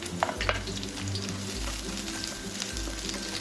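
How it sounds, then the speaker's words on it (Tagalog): Garlic sautéing in hot oil in a pan, a soft steady sizzle with a few light metallic clinks of utensils, fairly quiet and with no voice. "Then, igigisa po natin ang ating bawang."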